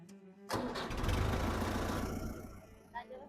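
A Kubota tractor engine cranks and catches on a freezing March night after glow-plug preheating, a sudden loud start that settles into a rough, rumbling idle.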